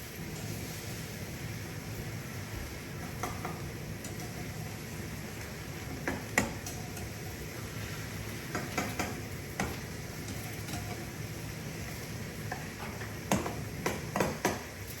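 Eggs fry quietly in a pan, a low steady sizzle with scattered ticks and sharp little clicks of a spatula or pan, close but faint and with no one talking.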